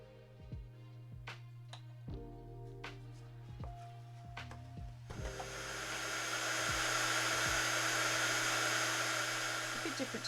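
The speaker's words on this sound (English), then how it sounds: "So get my heat tool out." A craft heat tool warms washi tape stuck on a card. After a quieter stretch of hum and small clicks, it switches on and gives a steady, loud blowing whoosh.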